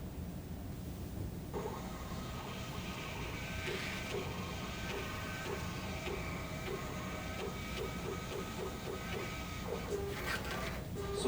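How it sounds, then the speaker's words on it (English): A ballot machine prints the precinct totals report, a steady mechanical whirring with rapid repeated ticking strokes running continuously for several seconds, close and fairly loud against a quiet room. "as soon as it starts to close, it will print the totals report"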